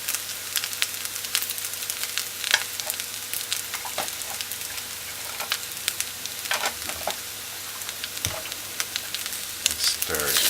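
Mixed vegetables fry in a pan with rice, giving a continuous close crackling sizzle with frequent sharp pops and scraping stirs, and no voices over it.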